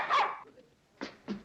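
A dog barks three times nearby, one sharp full bark followed by two shorter yips after a brief pause.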